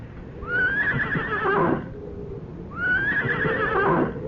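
Two loud, close horse whinnies from a radio mystery drama, each a rising then shaking neigh lasting over a second, with faint hoof clip-clop beneath and no talk.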